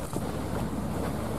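A Ben Tre trawler boat runs over open water, its steady engine drone buried in heavy wind rush and water noise, with no talking.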